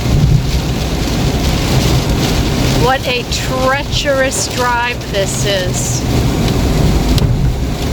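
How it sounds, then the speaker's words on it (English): Heavy rain pours down steadily on a vehicle during a drive, a loud, unbroken wash of noise with someone talking over it partway through. "The rain just keeps downpouring."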